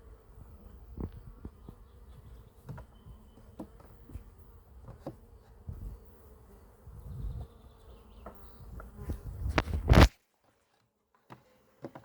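Bees buzzing steadily around a wooden beehive outdoors, a soft continuous drone with individual insects passing close, then a sharp nearby knock near the end followed by near silence.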